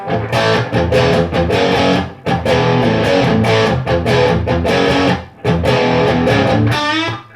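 A distorted electric guitar plays chunky, crunchy chords and riffs through a Peavey Ultra Plus amp on its crunch channel with reverb off, loud and close, with brief pauses between phrases.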